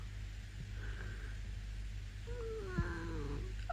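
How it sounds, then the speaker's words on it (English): A small cat gives a soft, faint meow over a low steady hum, its thin wavering cry rising and falling briefly. "it's such a little tiny small meow"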